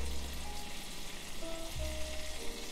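Lamb loin chops fry in melted butter in a pan, a soft, even sizzle hissing steadily throughout with a faint low hum beneath.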